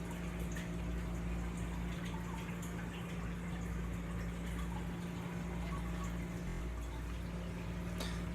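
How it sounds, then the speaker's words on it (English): Water runs steadily to fill tanks on a cleaning day, a faint continuous wash and trickle over a constant low pump hum. "I let it run and fill the tanks up"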